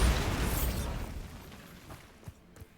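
Bombarda blasting spell going off in the game Hogwarts Legacy: a loud, heavy burst at the start that rumbles away over about a second, followed by a few small scattered pops and debris clicks.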